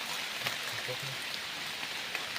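Heavy rain falls steadily, a dense, even hiss of drops on surfaces with occasional louder spatters, constant and close.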